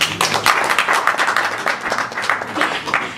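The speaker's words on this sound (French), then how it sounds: "Applaudissements, s'il vous plaît." Clapping from people at a press conference for a gospel album launch, a brisk run of distinct, fairly close hand claps at an uneven rhythm, loud and without speech over it.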